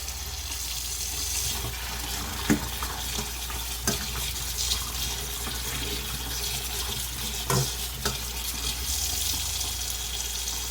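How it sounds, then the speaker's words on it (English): Tap water runs steadily into a sink as cooked macaroni is rinsed under it, a continuous soft splashing with a few brief knocks and clatters, quiet and close, with no talking. "Rinse off any of the excess starches and the oil."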